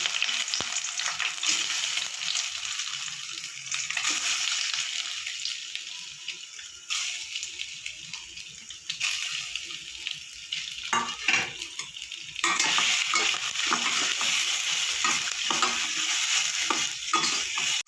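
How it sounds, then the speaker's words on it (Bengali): Soybean chunks fry in hot oil in a wok over a gas flame, a steady close sizzle broken by scraping and stirring strokes that grow more frequent toward the end. "এগুলো আমি এবার হালকা করে ভেজে নেব"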